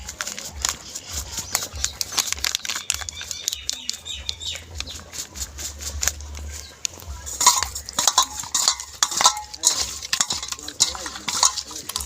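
Pieces of fish being mixed by hand with salt, turmeric and mustard paste in a Bengali kitchen with a wood-fired stove, giving irregular wet squishing and clicking strokes against a bowl, with a rooster and birds calling faintly in the background.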